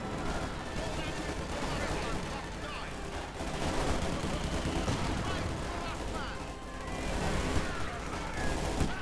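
Dense battle gunfire from the Company of Heroes 2 real-time strategy game, with continuous overlapping shots and blasts forming a loud, steady wall of combat noise with no quiet gaps, while a commentator talks over it.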